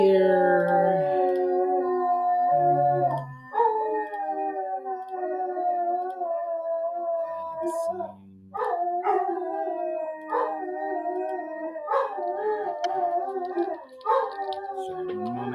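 Several pet dogs howl together in a long, wavering chorus indoors, with rising and falling pitches overlapping continuously and only brief pauses, loud and close.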